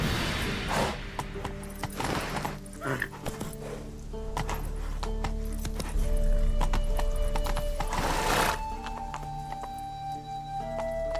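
Roach, a horse in The Witcher 3, gallops with rhythmic hoof clip-clops over a low rumble, and a snorting whinny bursts out clearly partway through.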